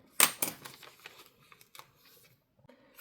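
Scissors snip through sparkle washi tape in a few quick, close cuts, two sharp crisp snips at the start followed by softer rustling and small tape handling sounds, quiet and without talk.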